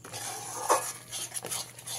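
Spice paste of cumin and coriander powder being stirred and fried in a pan over a low gas flame for doi katla, with a couple of soft scrapes and clinks over a faint steady kitchen background.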